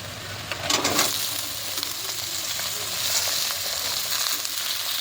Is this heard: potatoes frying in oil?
yes